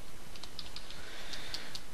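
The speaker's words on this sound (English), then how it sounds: "but I'm typing it" Light clicks from a computer keyboard tap out in an irregular string of quick keystrokes, faint and close during an online game, with no voices over them.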